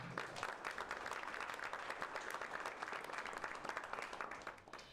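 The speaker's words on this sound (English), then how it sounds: "All right, let's clap it up, y'all." Audience at an Austin startup meetup applauding steadily as one presenter hands off to the next, a dense wash of many hands clapping that stays loud and even before easing off at the end.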